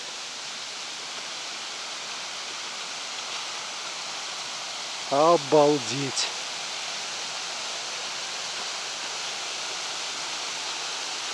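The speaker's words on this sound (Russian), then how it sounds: "Мы нашли этот водопад." A forest waterfall roars as a steady, even wash of noise from start to finish, broken once near the middle by a brief excited exclamation from a voice.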